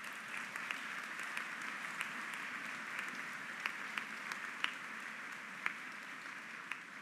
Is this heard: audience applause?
yes